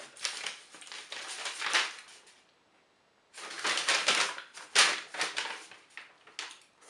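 Fishing lure packaging torn open by hand: close, crinkly plastic and cardboard ripping in two bursts separated by a short pause, with sharp crackles and snaps.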